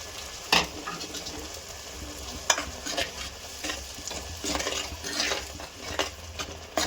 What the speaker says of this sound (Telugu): పేస్ట్లు కుతకుతలాడుతున్నాయి.